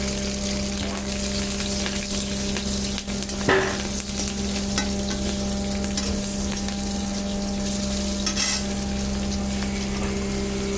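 Cumin seeds, a bay leaf, slit green chillies and garlic sizzle steadily in hot oil, a dense continuous frying hiss close up with no talking.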